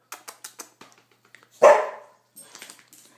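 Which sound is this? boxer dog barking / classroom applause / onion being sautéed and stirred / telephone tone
boxer dog barking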